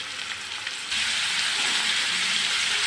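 Chopped onions hit hot oil in a pan and burst into a loud, steady sizzle that stays strong and even after the first moment.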